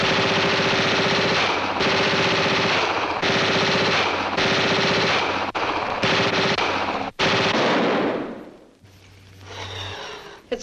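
Radio-drama machine gun fire in rapid sustained bursts, loud and close, stopping and starting several times before a final burst cuts off into a low hum and quieter background.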